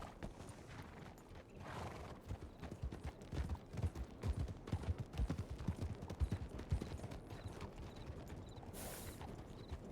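Hooves clip-clop steadily as horses pull wagons along a trail in a Wild West roleplay game, the irregular clatter rising and falling with a brief whinny near the end and no talk.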